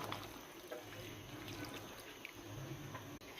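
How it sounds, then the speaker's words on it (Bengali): Broth poured into a pan of poa fish curry makes a faint, steady liquid rush and trickle, close by and low in level, running without a break. "এবার আমি এর সাথে দিয়ে দিব আর একটু ঝোল"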